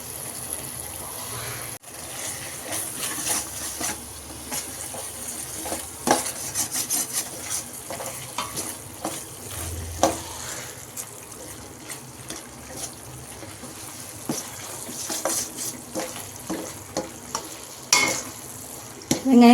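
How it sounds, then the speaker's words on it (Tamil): Onions and tomatoes sautéing for South Indian fish gravy, a steady sizzle broken by frequent spoon scrapes and clatters against the pan, close and continuous with no talk. "இதுலேயே கொஞ்சம் ஸ்லோ பண்ணிவிட்டு நல்லா வதக்கணும்."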